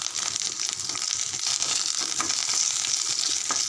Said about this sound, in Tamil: ஒரு 2 நிமிஷம் நல்லா வதங்கட்டும்.